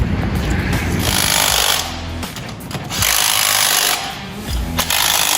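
A power tool drives a nut tight on a kids' go-kart assembled from a cheap Amazon kit, whirring loudly and close in two long sustained bursts with a short pause between them, alone without talk.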